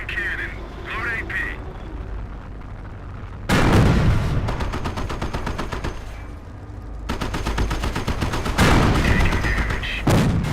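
In the Company of Heroes video game, bursts of machine-gun fire and heavy tank cannon blasts crack in repeated volleys, with a sharp loud onset partway through, while game voice lines call out over the combat.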